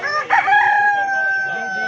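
A rooster in a Punjabi village crows one loud, close, drawn-out cock-a-doodle-doo that holds a long sustained tone, with a faint voice and rural background underneath.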